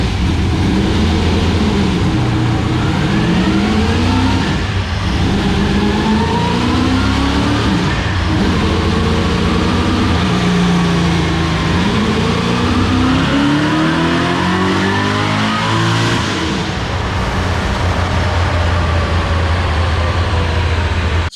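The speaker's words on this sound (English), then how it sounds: "Here's a quick video that you may have already seen of the car running on the dyno" A Camaro engine runs loudly and steadily on a dyno, revving up and down in sweeping waves with a rough, uneven note from a running problem, close and continuous throughout.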